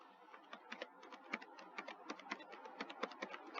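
Close fingers tap quickly on a computer keyboard while C++ code is written for a map-based solution, a quiet, steady stream of crisp key clicks with no talking.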